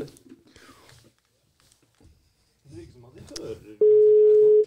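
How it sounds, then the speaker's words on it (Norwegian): A telephone dial tone sounds as a call is placed, a steady electronic tone rising loud and unbroken at the end after a stretch of people talking nearby. "Vi ringer Sondre."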